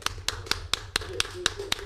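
About eight sharp claps land in a steady rhythm at roughly four per second, close and fairly quiet, each one a crisp isolated smack with a faint low hum underneath.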